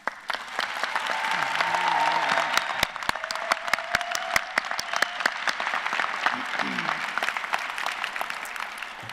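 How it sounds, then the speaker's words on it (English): An audience at a medical school commencement ceremony applauds for graduates' families, a broad wash of clapping that swells early and carries on steadily, with sharp individual claps standing out and faint voices underneath. "Please give them all a round of applause."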